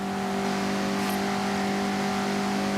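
Mazda MX-5 engine in the Forza Horizon 6 racing game holds a steady, buzzing drone with strong harmonic tones, loud and continuous throughout, with no voices over it.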